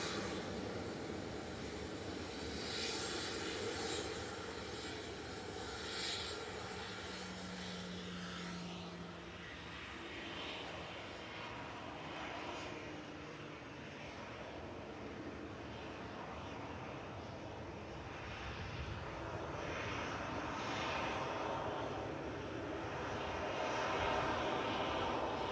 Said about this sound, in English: Sun Express just coming over the threshold on 23 right now